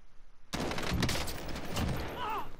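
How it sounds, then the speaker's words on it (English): Gunfire in the battle royale game Warzone, a sudden dense burst of rapid shots that keeps going, with a short voiced exclamation near the end. "That was some nice shooting by me."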